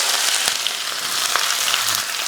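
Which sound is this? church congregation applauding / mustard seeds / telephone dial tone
mustard seeds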